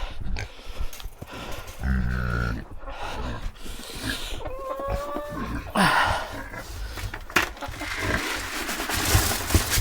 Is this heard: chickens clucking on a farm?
yes